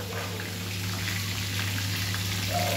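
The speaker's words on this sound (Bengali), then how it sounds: "আর এখন হচ্ছে পটল আর বেগুন ভাজা" Pointed gourd and eggplant frying in a pan for a home meal, a steady soft sizzle and crackle over a constant low hum, close and alone without talk.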